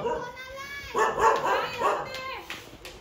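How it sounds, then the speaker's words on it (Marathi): A dog barks and yips a few times nearby, its sharp barks overlapping with people talking. "कुत्रा नुसता भुकतो"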